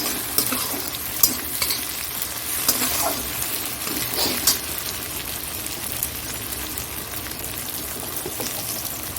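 Tomatoes go into frying mutton liver curry, a continuous close sizzle with stirring scrapes and occasional light clinks of a utensil against the pan.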